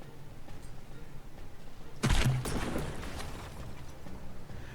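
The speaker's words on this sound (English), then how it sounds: "both of these ships just ended up stopping just broadside on one another, and there's just wailing away continuously" Battleship guns firing in the naval combat game From The Depths during a broadside duel between an Iron Goliath and a Wyoming: one heavy, close booming blast over a steady low rumble of battle noise.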